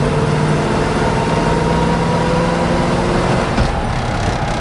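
A 1970 Ford Mustang Mach 1 engine drives along through its gears, a steady loud rumbling drone with a faint shift-like change near the end.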